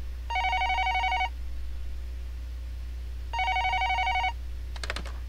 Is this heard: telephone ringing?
yes